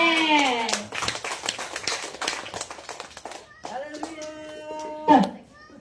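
A congregation at a Christmas party claps after prayer, a quick burst of many hands tapping together under loud speaking and singing voices, fading toward the end.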